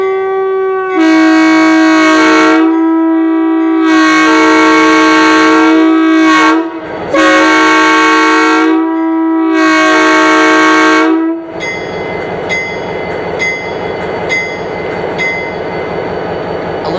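Western Pacific 3002 locomotive blasts its M5 air horn in a series of long chime sequences, loud and close, with short gaps between. After the horn stops, a train rumbles past.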